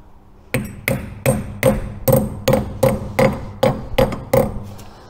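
A grease cap on an MGB wheel hub is driven into place with about a dozen sharp metallic taps in a steady, even rhythm, close and clear, with no talk.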